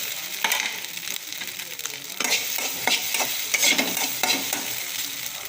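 Eggs fry in a pan while a spoon stirs them, giving soft repeated scraping strokes over a steady low sizzle heard close up, with no talking.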